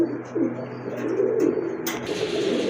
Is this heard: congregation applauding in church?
no